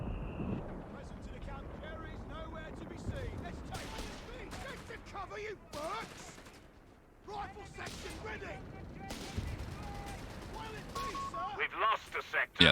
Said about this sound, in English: And the howitzer's doing its thing.